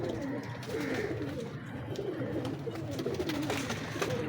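Pigeons in a loft or coop coo steadily in repeated low, throaty phrases, close by and fairly loud, over a continuous background of rustling and shuffling.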